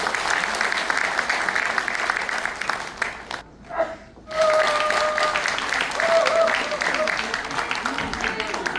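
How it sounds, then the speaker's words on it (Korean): Audience applause at a Buddhist award ceremony in Seoul, sustained clapping that briefly drops away before resuming, with some voices mixed in. "큰 박수 부탁드리겠습니다."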